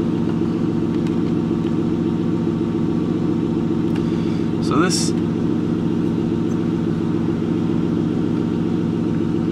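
An Aston Martin engine runs with a steady, deep idle rumble at close range, its even drone holding constant throughout with only a brief murmured word partway through and no clear rise in revs.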